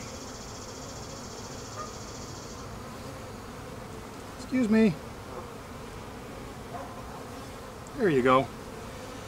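Honey bees drone in a dense, continuous close-up buzz at an open hive during a pre-harvest inspection, with a person briefly speaking twice over the swarm.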